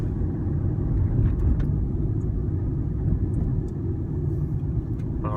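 A car drives through city traffic, heard from inside the cabin as a continuous low rumble of road and engine noise at an even level, with no talk.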